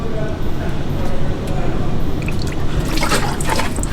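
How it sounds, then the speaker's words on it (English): Coolant poured into the cooling system of a Honda Del Sol gives a steady close trickle and gurgle, ending with brief drips and clinks over a low rumbling background. "So we'll throw coolant in and let it run."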